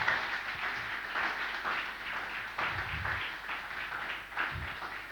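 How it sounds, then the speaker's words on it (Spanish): Congregation clapping during an Easter Sunday church service, a steady wash of applause with a few louder bursts, moderately distant and unaccompanied by speech. "Dale un aplauso al Señor"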